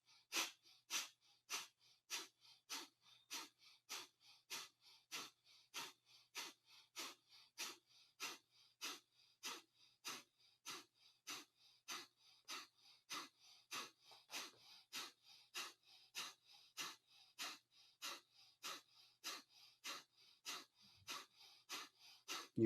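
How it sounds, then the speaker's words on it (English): Kundalini yoga breath of fire: rapid, forceful nasal exhalations pumped from the belly in a steady, even rhythm, each one a short close puff, continuing unbroken with no talking. "Now we're going to do 1 minute of breath of fire."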